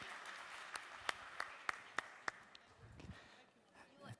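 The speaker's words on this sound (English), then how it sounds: "let's have a big round of applause for our audience" At a forum, a small audience claps in a quiet room, with a few sharp separate claps standing out before the sound fades into a murmur.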